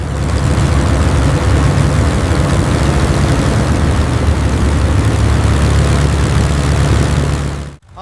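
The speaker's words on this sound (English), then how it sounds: "Engines stable. All systems green. Requesting takeoff clearance." Loud, steady roar of a WWII P-51 Mustang's propeller engine running at takeoff power, a deep continuous drone that holds unbroken for nearly eight seconds before cutting off abruptly at the end.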